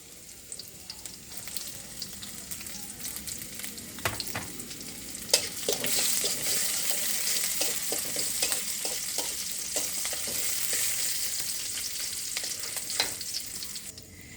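Chopped garlic and green chilli fry in hot oil, a steady close sizzle with scattered crackles and occasional stirring clinks, no talking.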